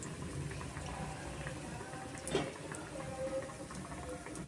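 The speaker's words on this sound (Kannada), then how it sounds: "ಮೀಡಿಯಂ ಫ್ಲೇಮಲ್ಲಿ ನಾನು ಫ್ರೈ ಮಾಡ್ಕೊತಾ ಇದ್ದೀನಿ" Vegetable bread pakoda frying in hot oil over a medium flame, a soft, steady bubbling crackle heard close but quiet, with no speech.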